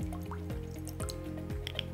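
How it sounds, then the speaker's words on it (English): Red wine vinegar splashes into a bowl of chimichurri sauce, giving a continuous wet dripping and squishing sound. A low rhythmic thumping pulse plays underneath throughout. "Into this, we're gonna add a few splash of red wine vinegar"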